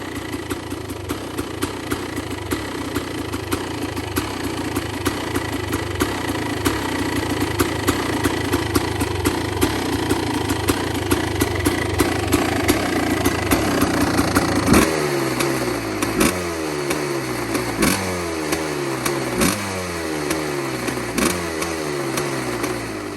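A Kawasaki KX 500 two-stroke motorcycle, cold-started after sitting for months, runs at a loud, rattly, close idle, then breaks into a series of sharp, repeated throttle blips and revs toward the end.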